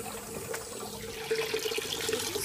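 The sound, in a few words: water running from a faucet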